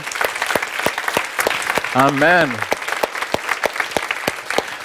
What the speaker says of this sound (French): Donnez-lui une vraie acclamation par la foi ce matin